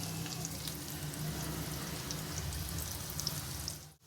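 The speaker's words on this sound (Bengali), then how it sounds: "এখন এরকম উল্টে পাল্টে একটু লাল করে ভেজে নেব" Paneer pieces fry in a pan for sesame paneer, producing a continuous even sizzle that cuts off abruptly near the end.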